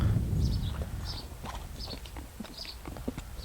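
A horse's hooves clip-clopping at a walking pace, soft and irregular over a low rumble of background noise, with no one speaking.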